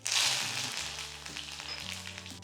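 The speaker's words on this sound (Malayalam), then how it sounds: "ഇനി ഇതിലേക്ക് ചുമന്നുള്ളി ഒന്ന് ബ്രൗൺ ആകുമ്പോൾ ഇതിലേക്ക് 2 മുളക് ഒന്ന് കീറിയിടാം. ഒപ്പം കറിവേപ്പില." Shallots, slit green chilies and curry leaves frying in hot oil in a pan for pacha pulissery: a steady bright sizzle, loudest at the start, with a faint droning tone underneath.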